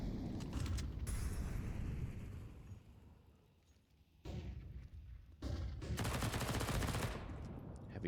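Spam gunfire rattles out in a Counter-Strike 2 professional esports match with MP9 weapons in play. Dense bursts fill the first seconds, fade briefly, then return loud with sharp cracks near the end, and no talk is heard.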